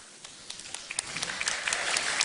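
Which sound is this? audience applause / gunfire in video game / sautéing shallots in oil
audience applause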